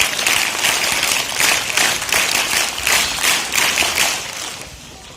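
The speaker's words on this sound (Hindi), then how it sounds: "और इन बच्चों के लिए जोरदार तालियां लगाएं।" Steady, enthusiastic applause from a crowd at a school prize-giving ceremony, with many hands clapping continuously and pulsing slightly before fading toward the end.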